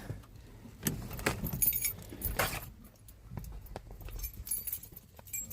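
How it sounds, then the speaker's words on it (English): Keys jangle and clink as a ring of keys is pulled out in a hot setting on the way indoors, a few bursts of metallic rattling amid light rustling and handling noise. "Get out the keys."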